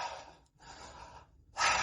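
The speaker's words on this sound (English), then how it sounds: "a little bit of more fire breath in that direction." Breath of fire breathing exercise: a person takes rapid, forceful breaths through the nose in two bursts separated by a brief pause, then a sharper, louder exhale, heard close and alone.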